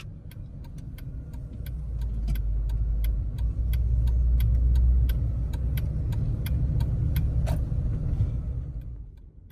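A Jeep cruises along a highway with a low, steady engine rumble and road roar swelling and holding, while a regular ticking, like a turn signal, clicks over it throughout.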